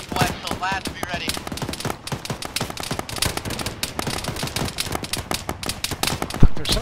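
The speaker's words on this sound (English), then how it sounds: "There's somebody shooting at me from the right." Rapid bursts of automatic gunfire and single shots crackle through a military shooter game firefight, dense and continuous, with a sharp louder crack near the end.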